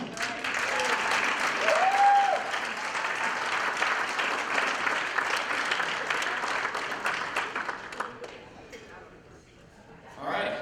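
A breakfast audience at the Oregon party summit breaks into sustained applause, loud and dense for about eight seconds before thinning out, with a voice and a brief swell of clapping again at the end.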